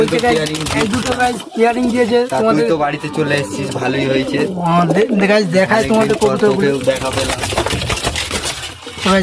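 Pigeons coo softly nearby in a loft, their murmuring calls mixing with someone talking throughout.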